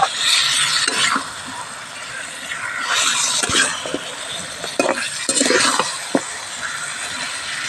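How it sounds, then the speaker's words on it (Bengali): Country rooster meat with garden green chilies being stirred and sautéed in a pan, with a steady sizzle and repeated scraping and clinking of the spatula throughout, fairly close. "এবার মাংসটা বেশ সুন্দর করে কষিয়ে নেব"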